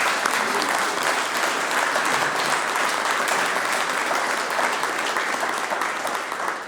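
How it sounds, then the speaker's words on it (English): An audience claps enthusiastically, a dense, steady burst of applause that holds for several seconds before starting to fade. "How about a round of applause for our panelists?"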